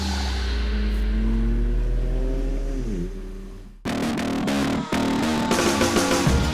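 A Mercedes-AMG C63S laps a race track, its engine note rising then dropping as it lifts, followed by sharp revving bursts with quick gearshift breaks, loud and close.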